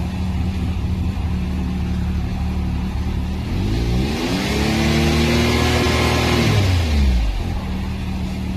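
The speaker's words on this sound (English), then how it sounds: "So I'm gonna put it in neutral here and just hold the RPMs up for a second." A 2021 Can-Am Maverick X3 turbo engine sits in neutral and is revved up, rising from a loud idle to a sustained high-RPM drone held for a few seconds, then dropping back, with no talking.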